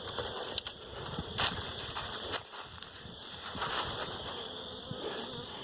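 Honey bees hum steadily from an open hive during a spring inspection, a close, continuous buzzing with a few brief knocks and no talk.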